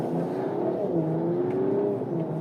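A Mercedes-AMG CLS 53 4Matic+ exhaust drones steadily as the car accelerates, a continuous low engine tone rising and settling in pitch, heard from inside at moderate loudness with no talking.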